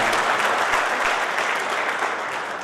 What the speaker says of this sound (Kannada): ಜೋರಾದ ಚಪ್ಪಾಳೆಯೊಂದಿಗೆ ಒಂದು ಅಭಿನಂದನೆಗಳನ್ನು ಸಲ್ಲಿಸಲಿಕ್ಕೆ ನಾನು ಇಷ್ಟಪಡ್ತೇನೆ